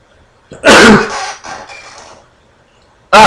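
A loud, close human sneeze bursts out sharply and trails off into a breathy tail, followed after a short pause by the start of another loud vocal burst.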